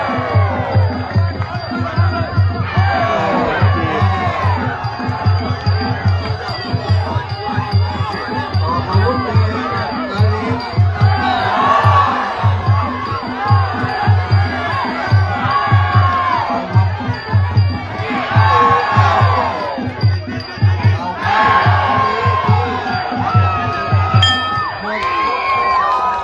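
A loud, dense crowd cheers continuously at a Muay Thai boxing match in a central Thailand Siam bout, with whoops, shouting and children's voices swelling in waves throughout.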